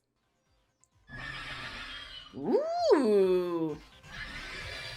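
Pyrin, a fire horse Pal in the video game Palworld, lets out one loud rising-and-falling whinny over a steady game background hum, and a voice briefly exclaims just before it.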